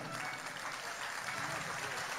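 Sustained audience applause fills a concert hall at a folk music anniversary concert in the Gran Teatro Nacional, a dense, steady wash of many hands clapping with no voices rising above it.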